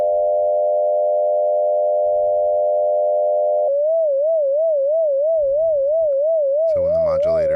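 A frequency-modulation synth tone on a 600 Hz carrier, with a modulator index of 60, sounds first as a steady buzzy harmonic drone and then as a pure tone with a fast wobbling vibrato, ending in a brief, louder harmonic burst.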